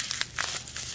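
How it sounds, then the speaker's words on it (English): Crinkly plastic rustling and crackling up close, a quick series of crisp crackles from bubble wrap being handled. "nicely wrapped here, bubble wrap."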